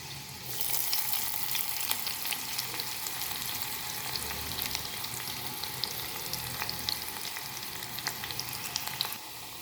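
Chopped onion frying in hot oil with garlic for dal tadka, a steady crackling sizzle with faint scattered pops and light stirring, close and continuous with no talking.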